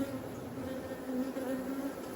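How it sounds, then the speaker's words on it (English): Honey bees buzzing inside a hive box, a steady, close, droning hum with a tonal whine and no pauses, heard on its own without talk. "That's a good bit of bees in that box"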